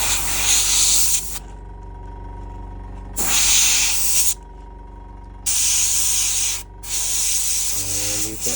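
An airbrush sprays paint onto a Tzeentch disciple miniature in bursts of steady, loud hissing air. Four spray bursts come close up, separated by quieter pauses with a lower background hum.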